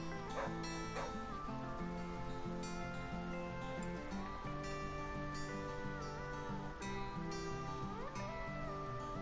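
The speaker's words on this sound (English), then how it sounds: "What are you barking at?" Dog barks in The Flame In The Flood, set against steady game music with sustained melodic tones; the barks are short and sit within the soundtrack rather than standing out loudly.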